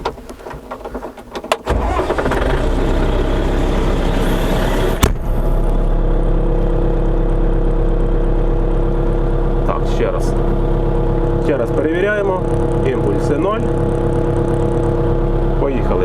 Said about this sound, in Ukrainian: Заводимо двигун і поїхали.